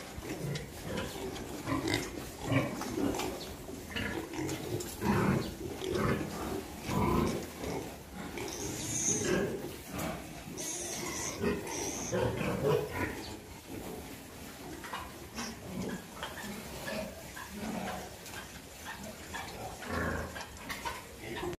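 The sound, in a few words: piglets and sow pigs grunting on a farm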